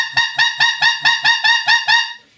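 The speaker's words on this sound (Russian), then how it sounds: "То есть в этом положении рук манок уже должен срабатывать, щелкать язык и перещелкиваться в верхний диапазон звуковой, да?" A white-fronted goose call is blown in eight quick rhythmic honking notes, close and loud, each a bright cackling yelp.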